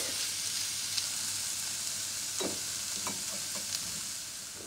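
Chopped onions fry and brown in a pan with a steady, close sizzle, broken by a few soft stirring scrapes and clicks.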